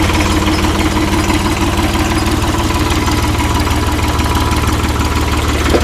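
A VST Shakti 9054DI tractor with a front loader fitted runs at a steady idle, its close diesel engine giving an even, rapid knocking throb that never changes, with no voices.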